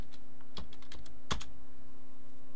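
A few scattered clicks of keys on a Commodore 64 computer keyboard, close and crisp, with one louder tap amid a steady electrical hum.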